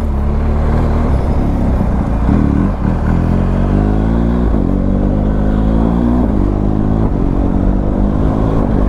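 A BMW GS motorcycle engine drones loudly and steadily in Paris, its pitch rising and falling as the rider accelerates and shifts gears.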